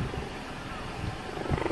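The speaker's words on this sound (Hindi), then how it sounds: "इस वीडियो में ये चीता दहाड़ने की बजाय लोगों को देखकर प्यारे अंदाज में गड़गड़ाने लगा।" A cheetah purring rather than roaring, giving a continuous rough, rumbling drone under a busy, noisy background, with a slightly stronger throaty pulse near the end.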